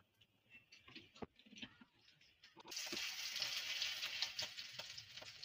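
Oil bursts into a loud, steady sizzle in a wok while fish curry is being cooked, after a few seconds of quiet clinks and handling sounds; the hiss stays close and continuous to the end.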